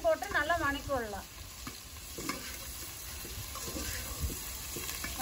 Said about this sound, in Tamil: வெங்காயம் ஒரு வெங்காயம் போட்டு நல்லா வணக்கி விடலாம்